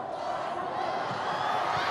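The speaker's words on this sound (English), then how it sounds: "Cheering Perpetualites" Perpetual fans cheering during an NCAA men's volleyball finals match against EAC, a loud, continuous crowd roar with a commentator's voice over it.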